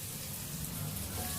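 Turmeric and onion frying in oil in a home kitchen while an egg fry is being cooked, giving a steady, soft sizzle and crackle that runs unbroken and fairly close throughout.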